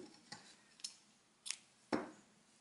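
Scissors snip yarn during crochet work, giving four short, sharp metallic clicks spaced irregularly over a couple of seconds, close and fairly quiet with no talking.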